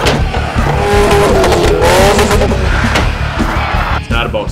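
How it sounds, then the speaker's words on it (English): A car in a rollover contest at a night thrill show tumbles over and over, giving loud, continuous engine roar mixed with tire squeal and scraping, close and dense, with crowd and announcer voices under it. "the ones that do, they can roll their car almost nonstop"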